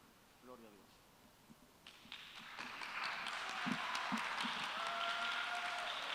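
Church congregation applause during a Sunday sermon, starting faint amid scattered sounds and swelling into a fuller, louder wash of clapping over the last few seconds, with a few cheers or voices mixed in.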